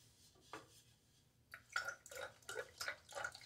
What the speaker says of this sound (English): Shaking the water out of my brush here, most of it.